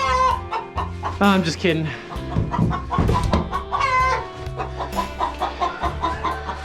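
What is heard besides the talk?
chickens clucking in a coop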